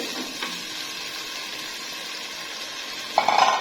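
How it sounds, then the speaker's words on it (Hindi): Kachnar buds and tender mutton are stirred and fried in a pan, giving a steady sizzle throughout, with a brief burst of louder scraping and bubbling near the end, no voices. "और इसको मिक्स करके भून लेंगे अच्छे से।"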